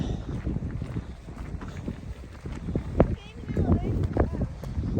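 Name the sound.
wind blowing on mountain trail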